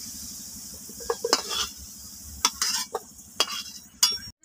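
Potatoes frying in hot oil for a Bengali-style chicken dish sizzle steadily while being lifted out, with sharp clinks and scrapes of a utensil against the pan.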